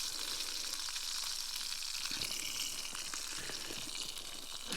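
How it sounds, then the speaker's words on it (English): A Hereford beef burger fries on a military camping stove at a sub-zero wild camp, giving a steady, close sizzling hiss with scattered small pops throughout, no voices over it. "Nice Hereford beef burger there, cooking away."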